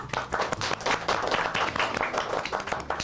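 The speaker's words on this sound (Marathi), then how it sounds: "सगळ्यांसाठी एकदा जोरदार टाळ्या" An audience claps together at a Marathi television show event, a dense burst of steady applause that carries on close and full for a few seconds.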